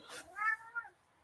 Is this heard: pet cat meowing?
yes